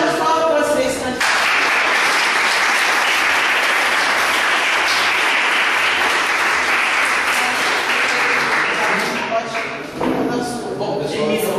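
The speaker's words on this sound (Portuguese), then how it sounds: "Uma salva de palmas para vocês, candidatos." Loud sustained applause from an audience at a youth ministry debate on lowering the age of criminal responsibility, honoring the candidates; a dense clapping roar fills about ten seconds, with brief voices at the start and end.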